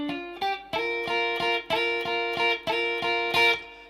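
Slightly overdriven electric guitar picks a song's intro phrase close to full tempo, rapid repeated double-stop hits in a driving, even rhythm after two lead-in notes, heard clearly with no voices.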